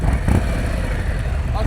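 A motorcycle engine rises briefly under throttle during slow-speed riding practice, a short nearby rev over a constant engine drone, with a person's voice mixed in.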